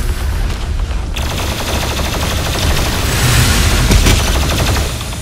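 The BFG 10,000 in the first-person shooter DOOM Eternal fires as a loud, sustained roaring blast, a dense rumbling wash that swells toward the middle and peaks before easing slightly, with a brief sharper burst near the start.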